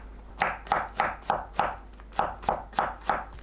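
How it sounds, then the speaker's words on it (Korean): A knife julienning halved king oyster mushrooms on a cutting board gives about ten crisp, evenly spaced chopping taps, close and clear with no talking. "새송이버섯을 반으로 자르고 채 썰어줍니다."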